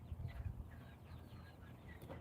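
Chickens in a rooster coop on a farm, soft clucking and low fowl murmurs close by, with a dull thumping rustle early on and no talking.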